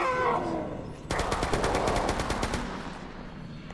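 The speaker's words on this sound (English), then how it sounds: "Shooting him." A rapid automatic burst from a weapon in the horror survival shooter Chasmal Fear, roughly fifteen evenly spaced sharp cracks over about one and a half seconds, loud and close, fading into a lingering rumble.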